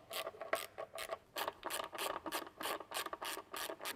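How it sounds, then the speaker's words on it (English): Torx bolts being loosened from the fuse cover of a Tesla Model S with a ratcheting tool, giving a close, rapid series of rhythmic clicking and grinding strokes. "We're going to start by removing the Torx bits and then breaking the seal."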